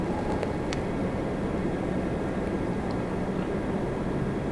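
A steady, broad roar of jet engines from a Boeing 737 Max 8 on its takeoff run at Toronto Pearson holds constant and fairly loud, heard from a distance with no talk over it.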